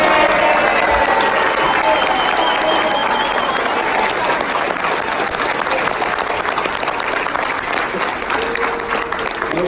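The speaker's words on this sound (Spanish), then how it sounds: "por favor, un aplauso para Gustavo Borges" Loud, dense applause from a large audience, honoring Gustavo Borges, a continuous wash of clapping with some cheering voices mixed in throughout.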